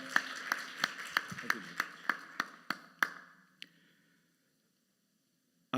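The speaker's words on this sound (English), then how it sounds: "Give him a lovely round of applause" Rhythmic hand clapping from an audience after a bansuri flute performance at a devotional afternoon gathering: about a dozen evenly spaced, crisp claps that fade out, followed by a brief spoken word.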